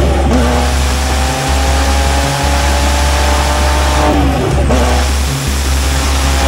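A stripped-out Gunther Works track car test mule revs hard and close, its engine roaring loud and continuous with brief dips between throttle blips, no voices.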